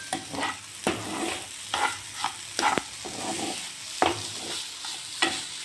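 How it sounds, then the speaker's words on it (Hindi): A spoon stirs sugar into frying beetroot halwa in a pan, scraping and knocking in about a dozen distinct strokes over a soft continuous sizzle, close and fairly quiet. "अच्छे से मिक्स करूँगी चीनी।"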